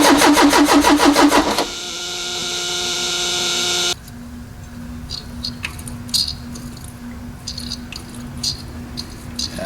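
The 2.0 Pinto engine of a 1974 Ford Capri runs briefly with a fast, rhythmic, rattling pulse, then drones on steadily and cuts out, followed by light clatter and knocks.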